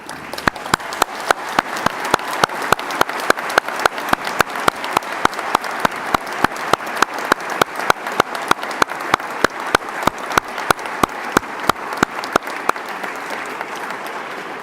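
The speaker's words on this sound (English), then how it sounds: "join me in a round of applause to say thank you to those who've helped you achieve your award" Graduates at a university graduation ceremony give a long round of applause for family and friends, a full hall of steady clapping with a strong rhythmic beat of synchronized claps running throughout.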